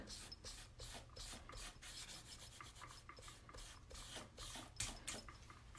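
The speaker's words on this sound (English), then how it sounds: "So really just blot it and then lightly wipe." A cloth lightly wiping paint off a hand-stamped metal piece, quiet rhythmic rubbing strokes repeating about twice a second, close and soft with no talking.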